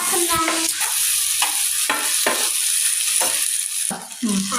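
Potatoes frying in a pan for a stir-fry, stirred with repeated scraping strokes of a spoon every half second or so over a continuous close, loud sizzle.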